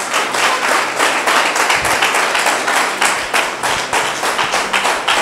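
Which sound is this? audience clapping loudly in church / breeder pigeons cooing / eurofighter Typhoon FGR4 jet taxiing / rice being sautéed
audience clapping loudly in church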